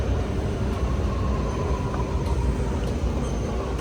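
A Sydney Metro train runs at Victoria Cross station, a steady loud rumble with a faint whine and no talking.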